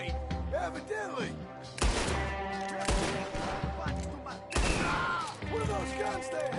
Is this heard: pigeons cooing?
no